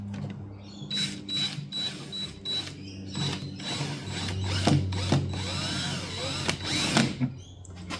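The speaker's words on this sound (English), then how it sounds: "Just going to drill straight down." A power drill whirs in short bursts, starting and stopping repeatedly as it bores into the wood of a classical guitar, with a steady high whine and mechanical rattling.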